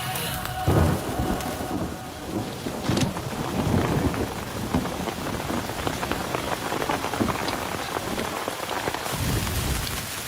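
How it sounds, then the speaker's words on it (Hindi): Steady rain pours down with dense patter, and several deep thunder rumbles roll in, with no voices. "यहाँ पर बारिश हो रही है"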